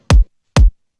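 Two deep, boomy kick drum hits without compression, spaced about half a second apart, loud and dry, with another hit just starting at the end.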